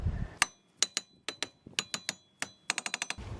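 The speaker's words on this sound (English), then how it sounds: "we're going to need to take a hammer and tap on this a little bit" A hammer taps a rusted rear brake rotor on a Subaru XV Crosstrek repeatedly with sharp, ringing metal clinks, spaced unevenly, then a quick burst of several strikes near the end.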